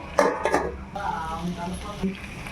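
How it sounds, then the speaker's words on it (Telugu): Prawns being stirred in a pan for a prawn curry, with a few close clanks and scrapes of a utensil against the pan under a speaking voice. "ఇప్పుడు రొయ్యలు వేసేసుకుందాం దాంట్లో ఒక్కసారి మొత్తం తిప్పుకొని ఒక నిమిషం ఒక నిమిషం మగ్గనిద్దాం"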